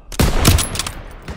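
Machine gun fire in the World War II shooter Call of Duty: WWII, a loud close burst of rapid shots with dense, overlapping reports that tails off into quieter fire.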